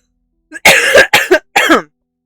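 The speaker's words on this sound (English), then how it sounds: "I'm trying to get over this cough" A close, loud burst of several harsh coughs in quick succession, separated by brief pauses.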